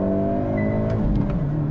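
A 2022 Hyundai Elantra N turbo sport compact with a six-speed manual, held at full throttle in first gear, its engine note steady and loud with a rising harmonic drone close by.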